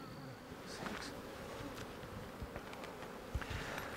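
Honey bees buzzing steadily around an open hive that was split six days earlier, a dense continuous drone close by with occasional louder passes of individual bees and no talking.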